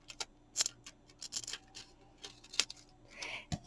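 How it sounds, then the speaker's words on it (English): Scissors snipping a piece off a diamond painting canvas, a handful of sharp, close crisp cuts spaced irregularly over a few seconds, with light rustling between them. "I'm going to go ahead and cut this piece off."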